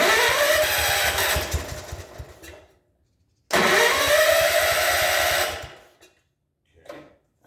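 A John Deere engine, its choke set, cranks and catches in two loud bursts of roaring engine noise of about two and a half seconds each, separated by a short silence, then a faint brief sputter near the end.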